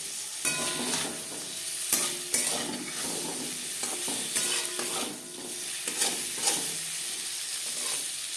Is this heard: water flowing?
no